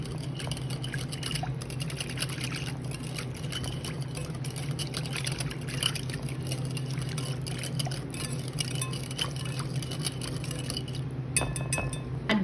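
Chicken thighs being mixed with garlic powder and black pepper in a kitchen, with light clinks of a bowl and utensils over a steady low hum of background noise.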